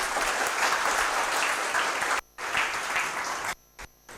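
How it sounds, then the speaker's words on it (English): A round of applause from a tech conference audience, dense clapping that cuts out abruptly twice before ending in short bursts. "Take a big round of applause for them."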